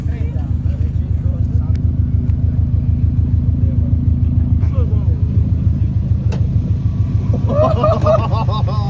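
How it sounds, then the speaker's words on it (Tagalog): A car with a boxer engine rumbles steadily at close range, a deep, loud, even drone with a fast pulsing beat throughout, and voices briefly join near the end. "Boxer engine."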